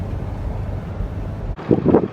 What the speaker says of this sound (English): a little windy out here at the moment